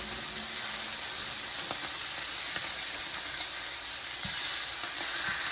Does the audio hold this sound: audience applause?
no